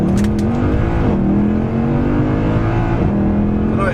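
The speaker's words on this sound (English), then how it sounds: "It went straight up second gear, found traction and bolted off." A Mercedes C63 AMG accelerates at full throttle in automatic mode, its engine roaring loud and close, rising in pitch through two quick upshifts with a brief tyre chirp at the start.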